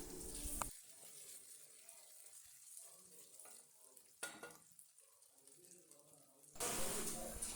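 Ginger frying in a pan for Kerala-style inji curry, a soft continuous sizzle with occasional stirring scrapes, fairly quiet and close, swelling louder near the end.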